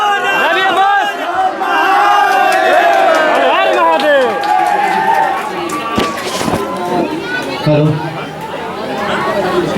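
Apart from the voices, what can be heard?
crowd cheering and chattering at a singer's event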